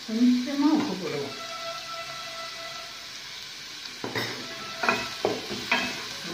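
A person talks briefly, then onions with a little salt sauté in a pan with a soft steady sizzle, followed by several sharp spatula scrapes close by.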